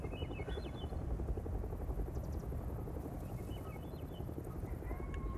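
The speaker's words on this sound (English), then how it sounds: "am I hearing a helicopter?" In the video game Hell Is Us, a helicopter's low, continuous rotor rumble, moderately loud and steady throughout, with faint chirping ambience on top.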